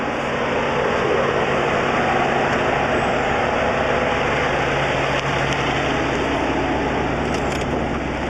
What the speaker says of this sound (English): we've come to the hardest part of the trail so far. This guy. All right, let's watch Corey go through it